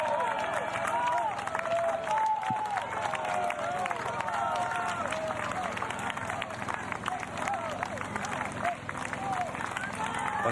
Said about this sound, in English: the fans just cheer it on